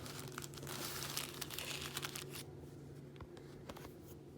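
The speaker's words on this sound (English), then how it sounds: "Open up your plastic bag and you stick this right in the plastic bag" Plastic bag crinkling and rustling up close, busy and dense for the first half, then a few sparser crackles over a quieter background.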